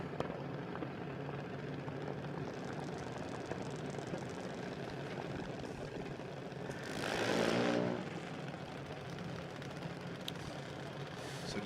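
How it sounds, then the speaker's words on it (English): A drag racing car at a Queensland drag racing championship rumbles steadily in the distance, with a brief louder throttle burst rising and fading midway. "We can hear the throttle whomping down there."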